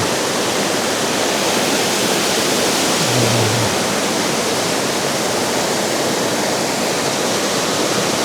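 Water cascading down like a small waterfall through channels in the hilltop village of Gordes in Provence, France; a dense, continuous, loud rushing roar fills the whole stretch, steady and close, with no voices.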